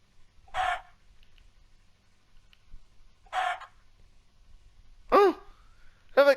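Minecraft chickens make short clucking squawks, spaced a few seconds apart over a quiet background, ending with two sharper, higher calls close together.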